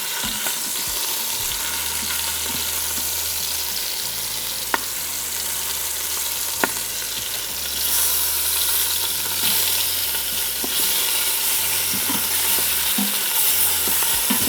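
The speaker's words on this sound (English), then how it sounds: "now we're going to begin to sear 3 minutes per side" Pork ribs searing in an Instant Pot for Mexican ribs and beans, a steady loud sizzle running throughout with occasional light scrapes and clinks of a utensil, no talking.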